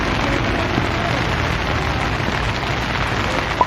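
Early-morning rain falls in Fukuoka as a steady, even hiss of drops on surfaces, close and continuous, with one brief tone near the end and no one talking.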